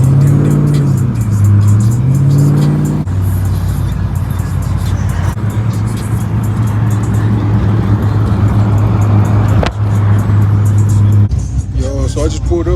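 A pickup truck drives along with a steady engine drone and rising revs through shifts, loud and close from inside the cab, while people talk over it.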